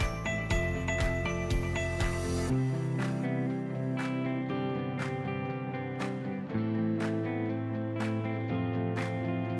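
Ratchet-like clicking while a tricycle's front wheel is tightened and spun, with a steady series of sharp ticks over a sustained tonal hum throughout.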